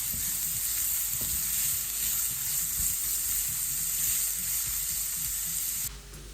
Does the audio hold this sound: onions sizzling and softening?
yes